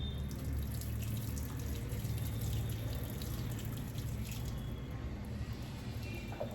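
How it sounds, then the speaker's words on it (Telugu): Excess water poured off cooked vegetables through a kitchen strainer, a steady close rushing splash of draining liquid running unbroken throughout. "ఇప్పుడు ఈ స్ట్రైనర్ తీసుకొని కొంచెం వాటర్ ఎక్కువైనాయి కాబట్టి తీసేస్తాను నేను."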